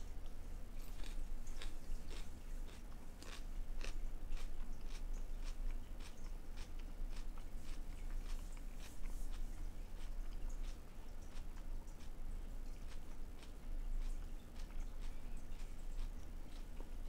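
Someone bites into and chews a crunchy Cor de Laranja cacao pod, close to the mic, with a long run of rapid crisp crunches in a steady chewing rhythm and no talk.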